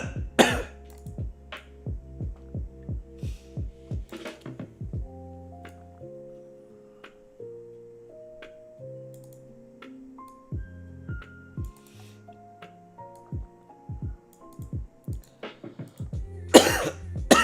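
A run of sharp, repeated coughs comes in clusters, loud and close, with short pauses and a few raspy throat-clearing sounds between bursts.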